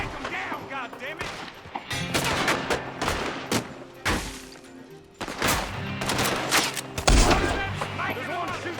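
Gunfire in a Red Dead Redemption 2 shootout, dense overlapping rifle and pistol shots with booming thuds and near-constant volleys, mixed with shouting voices throughout.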